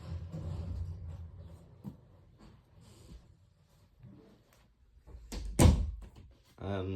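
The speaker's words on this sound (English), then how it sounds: "I'm gonna close the door just to get rid of it." A door being closed in a room during a look at a 2024 Comfort Zone 10-inch box fan, a single loud thud near the end, with someone talking before and after it.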